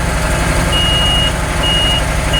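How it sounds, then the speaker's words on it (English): A steady electronic low-fuel warning buzzer sounds in repeated bursts inside the cab of a White 4-175 tractor over the loud, constant rumble of its idling engine. "That's that pesky buzzer that goes off when it gets a little bit low on fuel"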